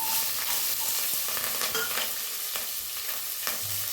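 Chopped onion, crushed green chili, garlic and a dried red chili frying in a pan for sambar rice, a close, continuous crackling sizzle with scattered stirring clicks and a soft thump near the end, no speech.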